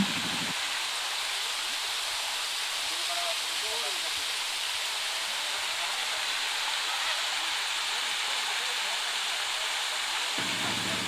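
Steady broadband rush of water flowing down a hillside, constant and fairly loud throughout, close by, with no talking.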